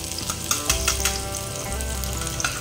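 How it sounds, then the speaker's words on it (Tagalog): Onion and garlic fry in a pan for a water spinach and minced chicken dish, making a loud, close, continuous sizzle with occasional crackles and stirring clatter, with no talking. "ilalagay na yung sibuyas. And then guys, ayan yung bawang."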